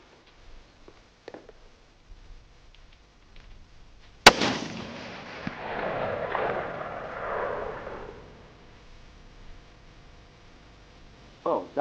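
A sharp gunshot from a Ruger American Gen 2 .308 rifle fired at a 300-yard range cracks loudly once, followed by a long rolling echo that fades over several seconds, with faint quiet noises before it and another sound starting near the end.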